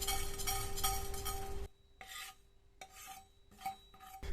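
A spoon scrapes and rubs fenugreek seeds dry-roasting in a pan. The scraping comes in rough bursts with short quiet pauses between them, and a steady hum runs underneath.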